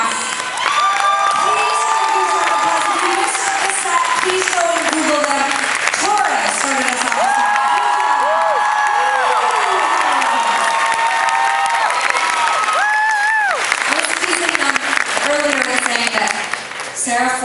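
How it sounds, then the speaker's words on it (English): A concert crowd at The Pageant in St. Louis, MO applauds and cheers for the support act at a show, with sustained clapping and whoops under loud amplified talk from the stage. "put together a huge round of applause for our support act"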